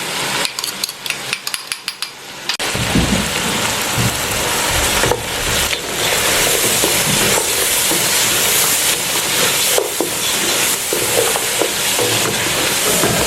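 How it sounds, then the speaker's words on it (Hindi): Loud, steady sizzling and hissing of spices frying in a pot for aloo gosht, with occasional stirring scrapes, after a few brief clatters at the start. "अब मसालों को हमने अच्छी तरह से भूनना है"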